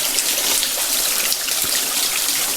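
Water pours down a rocky hillside near the Gudiyam caves, making a steady, close rushing trickle with scattered splashes. It stays continuous throughout, with no voices.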